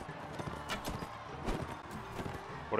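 Horse hooves in the medieval combat game Mount & Blade: Warband give a steady clip-clop gait at moderate distance over a low game background, with no speech.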